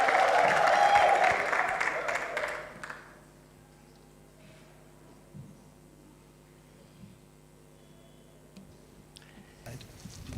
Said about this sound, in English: Can you give him a big round of applause as he comes?